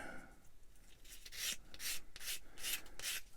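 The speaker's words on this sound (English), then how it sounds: "A bit of a sand just to get rid of the raised edge." Sandpaper rubbing on a small plastic part from a 1/144 Bandai Star Wars AT-AT model kit to remove a raised edge, close soft back-and-forth scratchy strokes in a quick steady rhythm.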